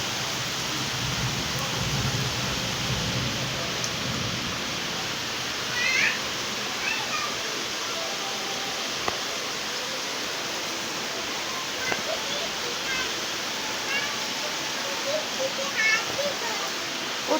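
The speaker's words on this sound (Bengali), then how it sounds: "প্রচুর বৃষ্টি হচ্ছে, প্রচুর প্রচুর অনেক বৃষ্টিতে মানুষ ভিজছে।" Heavy rain pours down on a Friday as people walk through it to prayer, making a dense, steady outdoor hiss with occasional nearby knocks and voices.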